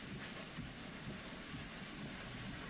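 Heavy rain pours steadily during a severe thunderstorm in Whitehall, Missouri, with low rumbling thunder blended into a dense, constant wash of noise; no voices are heard.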